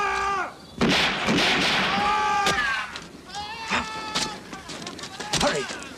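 Cannons boom repeatedly during a musketeers battle at a bastion, several heavy blasts spaced through the scene, mixed with loud shouting voices.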